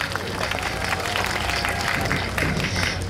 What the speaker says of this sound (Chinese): 让我们掌声鼓励